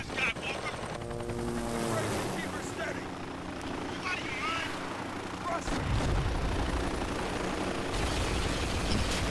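Helicopter rotor drone throbs through a combat scene in the Spec Ops: The Line video game, with rumbling blasts and someone talking over it.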